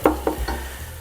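Seasonings melt in a pot of Thai coconut curry soup as a spoon stirs them, giving three soft knocks over a faint, low simmering hum.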